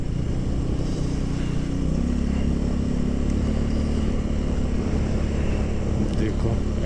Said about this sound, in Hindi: 80-90 की स्पीड से बाइक चल रही है